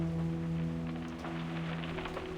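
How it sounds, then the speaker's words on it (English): Rain falling in the video game Reverse: 1999, a soft continuous hiss of drops under sustained low tonal ambience, fairly quiet and unbroken. "The fire caused by the explosion was being extinguished by the rain."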